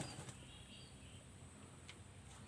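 Green pigeons beat their wings in a soft, fast fluttering that runs steadily throughout, faint and somewhat distant, with no voices.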